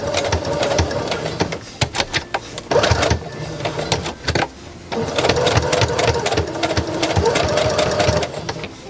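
A sewing machine stitches the base of a snap wallet in rapid, rattling runs, with one short pause near the middle, close and fairly loud, and no talking.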